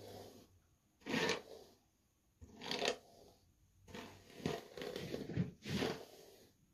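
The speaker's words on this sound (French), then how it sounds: "Une fois que j'ai fini de l'hydrater, on va peigner avec ma brosse." A brush drawn through a wig after moisturising it, giving four or five soft rasping strokes in a steady rhythm, close and alone with no talk.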